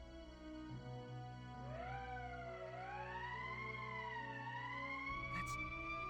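An emergency siren in a game wails in slow rising and falling sweeps over a low steady hum, faint and continuous throughout.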